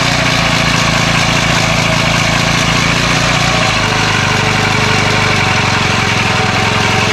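Edger trimmer engine converted from two-stroke to four-stroke, running close and loud: a continuous buzzing drone with a rhythmic low chug, which shifts and steadies partway through as the speed is brought down, with no talk.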